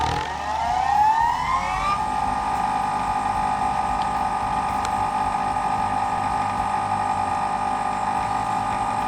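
Nova lathe chuck spinning up to 3,000 RPM, a rising whine that climbs over the first two seconds and then holds as a steady, loud mechanical tone.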